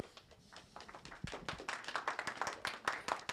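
A small audience at a Python programming meetup claps for a speaker, beginning with scattered, hesitant claps that quickly build into brisk, close applause from a modest crowd.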